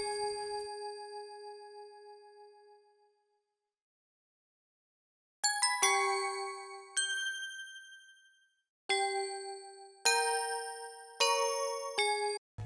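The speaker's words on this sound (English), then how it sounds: "I use a bell, but at the end here I also played some harmonies, which gives it a kind of different sound." Bell tones played on a Korg Kronos keyboard for a trap beat: a single sustained chime rings out and decays into silence, then a run of bright struck bell notes and harmonies follows, each ringing clear and alone.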